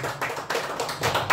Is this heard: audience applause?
yes